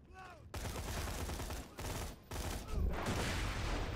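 Borderlands 2 gunfire erupts in dense, loud bursts of rapid shots that last several seconds, broken by short gaps, with a brief whistling tone at the start.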